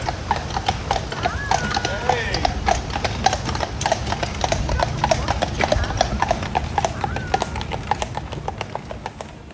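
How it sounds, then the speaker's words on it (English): Horses pulling carriages along a street in Colonial Williamsburg, their hooves clip-clopping in a steady, close rhythm that carries on throughout, with an occasional whinny and people talking nearby. "watching the horses with the carriages go by"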